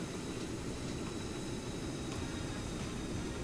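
An aircraft engine throttling up in the video game Stormworks, a steady broad low roar with a faint high whine, continuous and unchanging over a few seconds, no talking.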